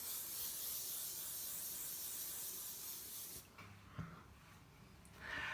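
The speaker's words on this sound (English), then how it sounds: "and hairspray." Hairspray sprayed from an aerosol can in one long, close hissing burst that stops abruptly, followed by faint rustling and a brief second hiss.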